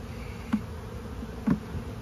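Honeybees buzz in a steady drone around hive frames as hives are split outdoors, with two brief closer passes standing out from the hum.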